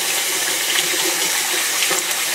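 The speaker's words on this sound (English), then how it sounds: "If you look on the side here where the water's coming in, it's pretty well clear water now." Tap water runs steadily into a sink while cottage cheese curds are rinsed clean of whey, a continuous close gushing hiss with no talking.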